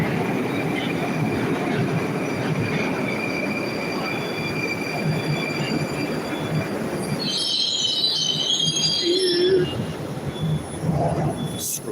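A Moscow metro train rumbles steadily along, then its wheels break into high, piercing screeches near the end.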